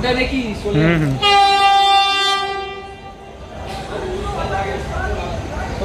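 The Puri–Howrah Vande Bharat Express sounds a long, loud horn blast over a rolling rail rumble, up close; a voice is briefly heard just before the horn.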